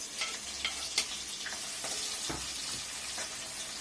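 Onions and green chillies sizzle and crackle in hot oil, with soft stirring scrapes and a few sharper clicks, fairly quiet and close, with no voices.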